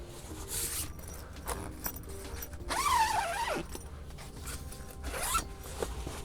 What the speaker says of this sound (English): all of the windows unzip for additional light so that you can enjoy the view